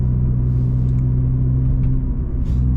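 Loud Hyundai Tiburon sports car engine drones with a deep, steady low rumble while driving, close and constant inside the cabin, with no talking.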